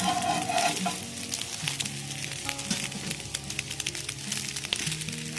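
Three eggs frying and sizzling in a pan for an egg burger, a steady crackling hiss with irregular pops and faint utensil clinks, close and continuous with no talking.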